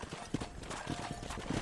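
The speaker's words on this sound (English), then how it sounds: "Control that horse, will you?" Horse hooves clip-clop in the Western video game Red Dead Redemption, a few quiet, irregular hoofbeats heard briefly amid background game ambience.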